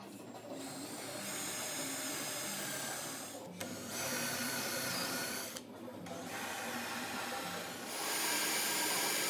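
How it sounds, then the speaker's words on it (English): A drill boring holes for threaded inserts in a walnut and resin piece, a steady high whine running in several bursts separated by brief pauses, close and loud with no talk. "I'll drill the holes and screw the inserts in"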